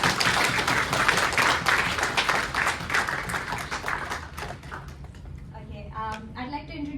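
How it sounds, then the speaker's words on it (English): Dense audience applause at a Dalit History Month and Ambedkar birth anniversary event, steady and loud for several seconds, then thinning out as a voice begins speaking over the last stretch. "A big round of applause for you"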